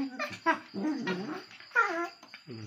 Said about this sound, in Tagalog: Yan talagang maglaro ng mga aso natin